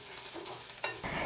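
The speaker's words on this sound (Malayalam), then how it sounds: "ഫസ്റ്റ് നമുക്ക് ഈ നിലക്കടല ചെറുതായിട്ടൊന്ന് റോസ്റ്റായിട്ട് കിട്ടണം." Peanuts and whole coriander seeds roast in a pan with a short, dense, continuous dry sizzle and rustle of stirring, close up and with no voices.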